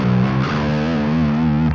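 An electric guitar lick played on open strings with heavy distortion, a thick sustained buzzing tone with shifting pitch, loud and close with no talk.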